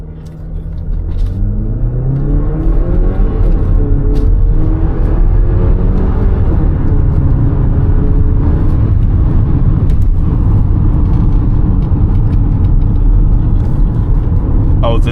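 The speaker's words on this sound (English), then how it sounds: "it really changes the sound of the exhaust without you accelerating. Just when you put it on race mode" Haval H6 GT exhaust in race mode, a loud steady engine drone with rising and falling harmonic sweeps as it accelerates, heard from inside the car over continuous road rumble.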